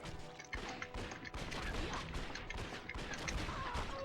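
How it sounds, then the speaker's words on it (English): Gunfire in the Red Dead Revolver video game, a rapid back-to-back string of shots hitting a boss, dense and continuous with crashing impacts throughout. "But if you shoot her a lot,"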